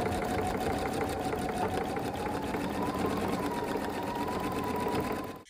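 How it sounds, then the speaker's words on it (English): A Designer Epic 3 sewing and embroidery machine runs its embroidery unit quietly, a steady, even mechanical hum with a fast needle rhythm that holds constant for several seconds before cutting off. "just to prove how much better this embroidery unit is and how much more exciting it is how quiet it is"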